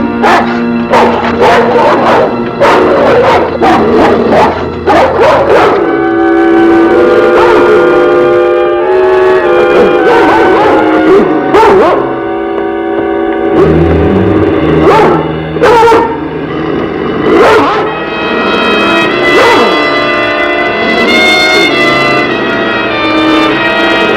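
Several dogs bark loudly and repeatedly near a cabin, sharp barks tumbling over one another in a dense, continuous chorus, mixed with music and occasional voices in a dramatic film scene.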